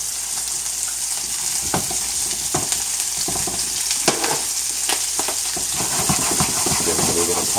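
Brussels sprouts sizzling and frying in a hot stir-fry pan alongside vegetables for an Asian stir-fry, a loud continuous hiss with scattered pops and clinks of stirring, no talking.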